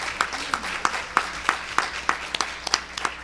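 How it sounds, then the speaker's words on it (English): Applause at a meeting about inmate claims, heard as a handful of sharp, evenly spaced claps in a steady rhythm, close and fairly distinct, with a few quicker claps near the end. "give them a big round of applause again for the work that they do"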